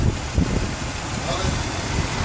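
A supercharged V6 in a 2006 Pontiac Grand Prix, with an exhaust leak at the crossover, runs at a steady idle, a low, even rumble beneath someone talking.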